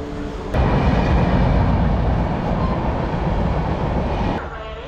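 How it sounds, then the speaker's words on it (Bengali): A Jaleswar to Puri local train rolls into platform 3 at a crowded station, giving a loud, broad rumble and rattle that swells suddenly and holds steady before dropping away, with crowd noise mixed in. "3 নম্বর প্ল্যাটফর্মে ট্রেনটা আসছে"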